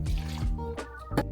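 Coconut water pours into a blender for a berry and banana smoothie, a short liquid gurgle and splash, then a few drips, quiet and close.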